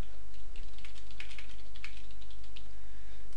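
Brief burst of keystrokes on a computer keyboard while a blog post title is entered, a quick run of light, close clicks over a quiet background.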